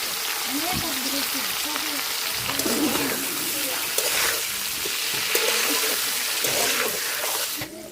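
Cauliflower florets sizzle steadily in hot oil in a pan, a rui fish curry being prepared at home; a continuous bright crackle runs throughout with occasional stirring, while voices talk intermittently over it.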